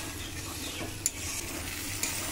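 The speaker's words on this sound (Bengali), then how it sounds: "আমি 2 মিনিট মতন খুব ভালো করে গোবিন্দভোগ চাল দিয়ে কষিয়ে নিয়েছি।" Gobindobhog rice frying with pumpkin in a pan and being stirred: a soft, steady sizzle with faint scraping and two small clicks of a utensil against the pan.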